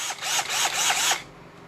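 A rechargeable battery-powered cordless drill whirs in a steady burst with a faint rhythmic ratcheting pulse for just over a second, then cuts off, close and fairly loud.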